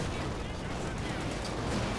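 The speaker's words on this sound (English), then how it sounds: "Air mines going off. Lots of explosions here." Constant gunfire and explosions from a Company of Heroes 2 1v1 match, including air mines going off, form a dense, loud, unbroken battle roar with no pauses.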